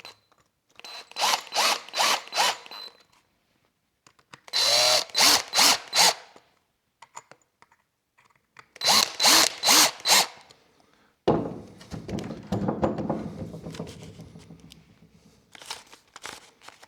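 A DeWalt cordless drill whirs in three short bursts of rapid, pulsing spin, each a couple of seconds long with quiet gaps between, followed by a longer rougher stretch of grinding, rattling work as it drives a screw.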